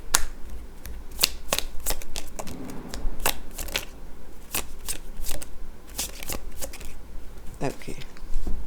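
Tarot cards are shuffled in quick, crisp bursts of riffling and snapping, close and fairly loud, repeating throughout with short pauses between flurries.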